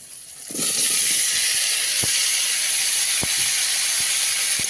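Steady loud sizzle as cut potatoes and slit green chillies drop into hot oil with panch phoron five-spice, a hiss that jumps up suddenly and holds, with a few faint clicks underneath.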